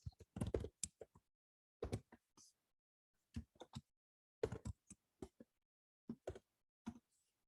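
Clusters of sharp clicks from typing on a computer keyboard, coming in short bursts separated by brief pauses, close and fairly quiet.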